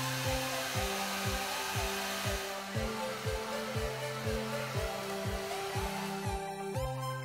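Hair dryer blowing on hair after oil is applied during a night routine; a steady, loud, close whirring drone that runs continuously, with slight wavering as it moves, and no talking.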